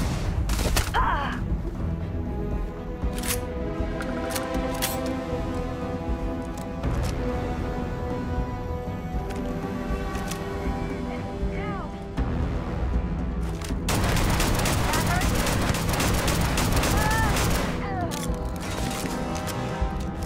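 Repeated shotgun blasts in the video game Starfield, close and punchy, scattered irregularly through a busy combat scene with music and other effects underneath.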